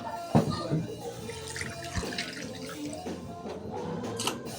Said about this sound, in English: You must wash the meat very well to remove